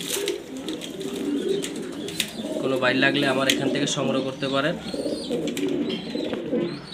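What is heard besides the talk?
German Beauty Homer pigeons cooing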